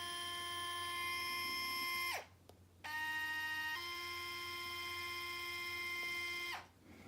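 An electric lacing motor in a Nike Adapt BB basketball shoe whirs in a high, tonal whine for about two seconds, stops, then runs again for several seconds before cutting off. It is close and clear with no talking.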